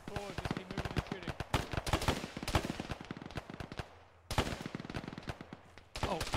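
Rifle and machine-gun fire rattle through a military video game, with rapid irregular bursts of sharp close shots, a brief lull, then more volleys in quick succession.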